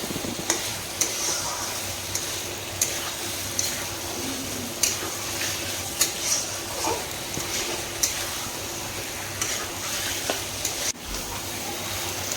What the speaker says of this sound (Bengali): ভেজে রাখা আলুগুলো দিয়ে দিয়েছি মশলার মধ্যে।